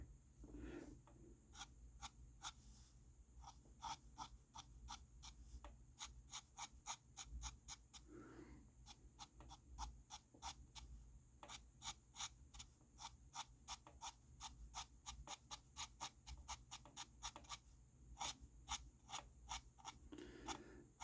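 A dip pen scratches across paper while drawing a gnome, giving a faint, close, dry rasp in repeated short strokes with brief pauses between, steady for the whole stretch with no talk.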